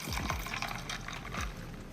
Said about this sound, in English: to top it off, I'm gonna add in this Tropical Punch Olipop.